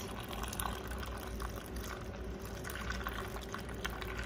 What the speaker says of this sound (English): I'm just gonna pour the hot coffee